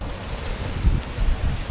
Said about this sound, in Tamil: இங்கே அப்படியே அலைகளோட தாக்கம் ஜாஸ்தியாகிட்டே வருது.